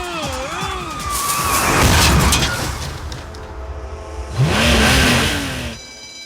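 A driverless car in a Hindi film scene, its engine revving hard, surging and fading, then a second sharp rev, with a siren-like tone and dramatic sound effects layered in.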